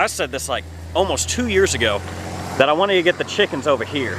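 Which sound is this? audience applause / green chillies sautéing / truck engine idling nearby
truck engine idling nearby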